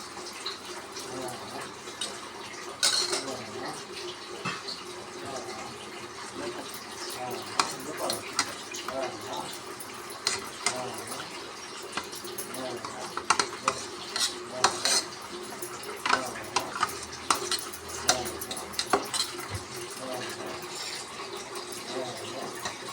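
A spoon scrapes and clinks against a pot while besan gram flour is stirred into buttermilk kadhi over a low flame to break up lumps, a continuous busy clatter with a voice talking over it.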